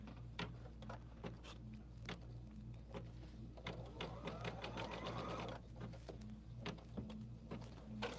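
Embroidery machine stitching an applique quilt block design, a steady mechanical hum with rapid needle ticking and intermittent clicks running continuously at close range.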